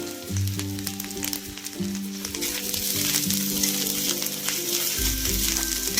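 Chili powder and turmeric sizzle loudly in hot oil while frying a masala for an eggplant dish, with a steady crackling hiss, occasional stirring scrapes, and a brief surge in the low rumble near the end.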